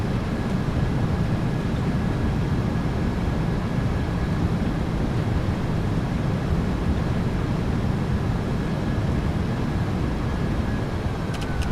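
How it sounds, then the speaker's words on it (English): Simulated PMDG 737-800 thrust reversers roar during landing rollout in MSFS2024, a dense, steady broadband rumble sustained at high level throughout with no pauses. "Reversers are out. Decelerating."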